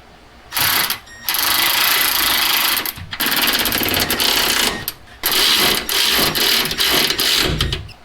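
A rapid buzzing power tool, likely an impact wrench, tightening a rear sway bar bushing bolt on a Honda Accord in several loud bursts separated by short pauses.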